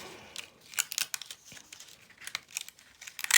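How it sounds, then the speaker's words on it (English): Paper die-cut butterflies peeled away by hand while making a handmade card, giving soft, irregular crinkling and tearing rustles in short close bursts, with no talking. "we're going to just carefully peel"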